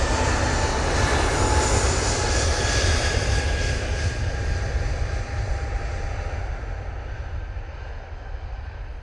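A Cathay Pacific airliner's jet engines roar steadily at Manchester Airport, a loud broad rumble and whine that slowly fades.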